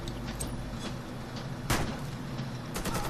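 A grenade goes off in an online team shooter game: one loud, sharp blast about halfway through, with a smaller burst near the end, over constant low battle noise and no speech.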